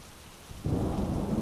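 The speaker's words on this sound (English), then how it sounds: "It has been pouring outside for days on end." A heavy downpour with a thunderstorm: after a quieter start, a loud, close roar of pounding rain and a deep rumble of thunder surge in abruptly and continue, with no voices.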